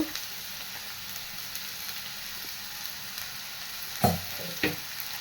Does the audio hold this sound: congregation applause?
no